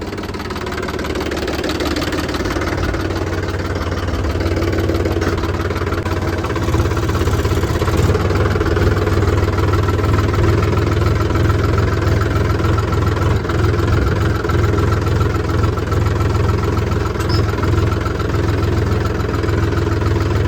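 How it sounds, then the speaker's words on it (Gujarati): Mahindra Yuvo tractor diesel engine running steadily, a loud continuous low rumble with knocking, idling texture that holds for the whole stretch, close by and without talk. "મેં જાઉં છું ટ્રેક્ટર ચલાવવા માટે"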